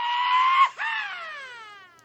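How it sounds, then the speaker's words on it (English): The Bungee Zombie Scream sound effect from a car game: a single loud, sustained, tonal wailing scream that breaks briefly, then resumes and slides downward as it fades. "I want to add the Bungee Zombie Scream"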